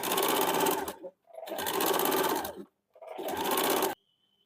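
Sewing machine runs in three sustained bursts of rapid stitching along a gents' short kurta seam, loud and close, with brief pauses between runs and no talking.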